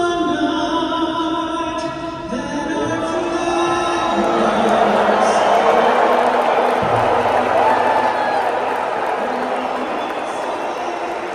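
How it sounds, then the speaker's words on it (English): Packed stadium crowd roaring with low, sustained booing mixed with scattered clapping, a broad continuous din that swells toward the middle, while a voice talks over it at times. "it sounds like a lot of booing to me"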